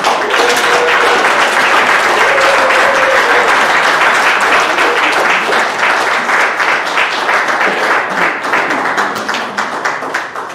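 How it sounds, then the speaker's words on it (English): Warm applause from the congregation at a Mother's Day evening church service, loud and sustained clapping from many hands for about ten seconds, gradually thinning and fading toward the end. "Please give her a warm welcome, a round of applause"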